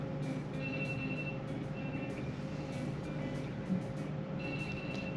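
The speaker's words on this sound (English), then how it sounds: "unfortunately there's an alarm going on the other room." An alarm goes off in the next room of a Best Western hotel in Jakarta, Indonesia. It comes through as faint, intermittent high beeping over a steady low room hum.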